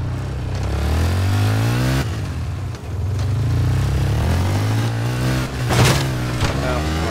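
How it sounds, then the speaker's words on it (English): Dirt bike engine in Battlefield 4 drones and revs steadily throughout, loud and close, with rising pitch sweeps as it accelerates and a brief dip near the middle, joined by a short burst of clatter late on. "Maybe if I just drove the dirt bike around for a while."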